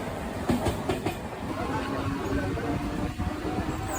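A Mumbai commuter train with open doors rumbles steadily along the tracks, with a few rhythmic clickety-clack wheel beats early on and continuous wind and carriage noise.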